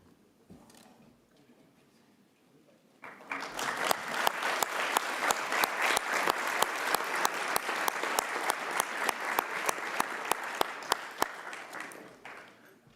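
An audience at a United Nations meditation event in Geneva bursts into loud, sustained applause after a quiet opening, with a few sharp individual claps standing out near the microphone until it fades.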